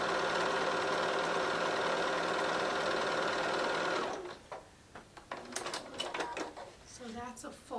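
A sewing machine runs steadily and loudly while a quilt seam is stitched, then stops; afterward come scattered clicks and handling noises of fabric being lined up.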